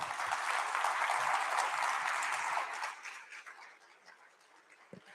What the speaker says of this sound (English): once again, a big round of applause for Mr. Pawan Desai